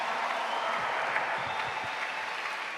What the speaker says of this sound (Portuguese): Pode aplaudir, individual.